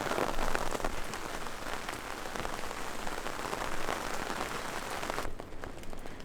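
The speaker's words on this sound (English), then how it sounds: "So it started raining way more than anticipated." Dense, steady rain pours down hard and continuously at an Oregon Coast campsite, drumming on surfaces with a loud, even hiss that never lets up.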